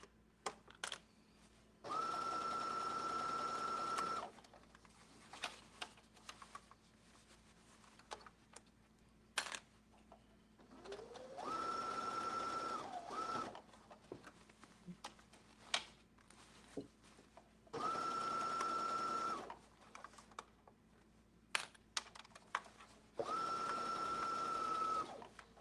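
A sewing machine stitches the seam of a bag strap, running in four steady, close bursts of a few seconds each, separated by quiet pauses with small handling clicks.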